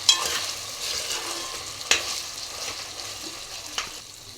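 Potatoes for aloo methi curry cooking in a pan and being stirred now and then, a soft steady sizzle with a few sharp scraping clacks of the spoon, close and fairly quiet.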